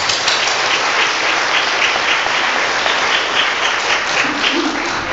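A seminar audience greets an invited speaker with steady, moderately loud applause that continues evenly throughout.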